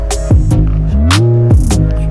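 A close electric end shaver buzzes continuously during a haircut, its pitch wavering as it presses and shifts, with a few sharp clicks along the way.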